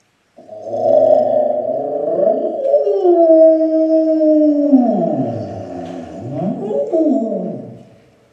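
A homemade healing instrument called the baleineophone gives long, loud moaning tones that slide up and down, imitating a happy whale, over about eight seconds with no talk.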